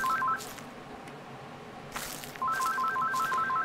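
A phone rings during gameplay of Slender, a repeating electronic ring tone heard in two bursts at the start and end over a quiet, dark ambience, with no one speaking.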